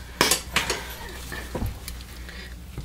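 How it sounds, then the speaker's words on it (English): A utensil stirs a strawberry and musk fragrance mixture in a container, with a few clinks and scrapes against the vessel at the start, then a softer swirling, close and fairly loud. "I'm gonna give this a stir."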